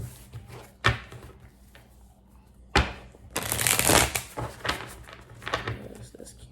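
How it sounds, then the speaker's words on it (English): Tarot cards being shuffled at close range, a couple of sharp taps followed by a longer riffling, rustling burst and softer handling sounds. "So let's pull cards and see what's coming up."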